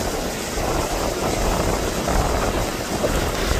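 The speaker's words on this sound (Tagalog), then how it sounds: "grabe ang pisa ng mga alon" A small fishing boat at sea in a storm with big waves, giving a steady, loud roar of churning water and wind buffeting the microphone, with no voices.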